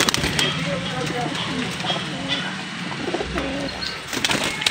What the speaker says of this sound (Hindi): ये सुर्ख आँख का कबूतर है